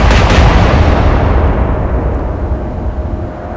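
A heavy naval gun salvo from a battleship such as Warspite in the Atlantic Fleet video game, a loud booming blast already sounding at the start that rumbles and slowly fades away.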